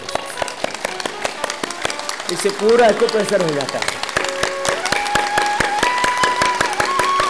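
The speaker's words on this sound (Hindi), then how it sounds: "और कुछ नहीं तो ऐसे जोर से ताली बजा लो" Loud hand clapping done as an acupressure exercise: a steady run of sharp, repeated claps continues underneath someone speaking throughout.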